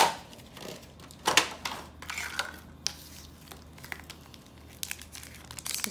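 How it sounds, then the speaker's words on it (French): Pokémon card booster packs from a Dragapult VMAX Shiny box are torn open up close: bursts of crinkling foil and ripping wrapper with short pauses between, quiet and without talk. "Alors on va commencer à ouvrir les premiers boosters"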